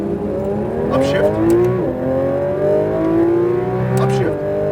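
A Porsche 992 GT3 RS at Speed Vegas revs loud and close as it accelerates hard on track, its pitch climbing steadily and then dropping with crisp upshifts around the middle and near the end.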